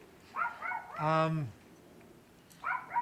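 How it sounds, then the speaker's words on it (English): A neighbouring dog gives a single drawn-out bark or yelp from some distance, with a person speaking briefly before and after it. "the neighbour's dog barked"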